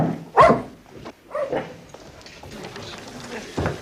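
A dog gives a few scattered barks and yips at close range, with sharp bursts between quieter rustling and movement.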